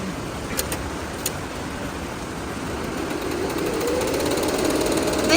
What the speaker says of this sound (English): we can press start button and make the machine working